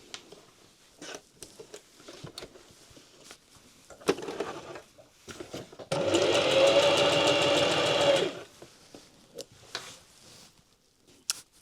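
A sewing machine top-stitches a quilted pencil case in one steady, loud two-second run near the middle, with quieter handling clicks and rustles before and after.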